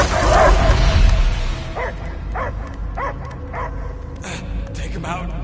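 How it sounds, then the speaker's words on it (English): A dog in the Guardians of the Galaxy video game barks and yips in a short series of sharp, spaced calls after a louder opening rumble, with character voices speaking around it. "I hear only barking."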